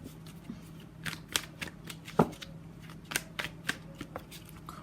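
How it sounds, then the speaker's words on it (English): A deck of tarot cards is shuffled and drawn in a quiet room, with soft repeated riffling and several sharper slaps and flicks as individual cards are pulled and laid down, close and fairly quiet. "So let's pull some cards from universe for final message."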